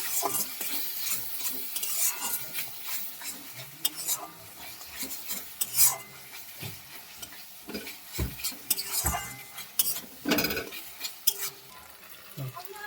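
Masala with chilli powder, salt and turmeric being stirred and sautéed for mutton curry, with rhythmic spatula scrapes and knocks against the pan over an uneven sizzle, close and busy throughout.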